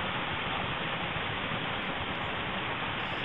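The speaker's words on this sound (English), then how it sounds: "This is just passing by beautiful waterfalls." A waterfall beside the Wonderland Trail gives off a dense, steady rush of water that stays loud and unbroken throughout.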